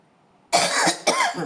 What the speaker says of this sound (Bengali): খুব কাশি হচ্ছে আমার